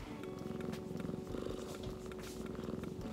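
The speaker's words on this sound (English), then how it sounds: "Can you guys hear her purring?" A cat purrs close by in a steady, rumbling rhythm of soft pulses lasting the whole stretch, quiet and unbroken, with no talking over it.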